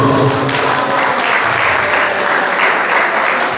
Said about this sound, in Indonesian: Tepuk tangan untuk Cigugur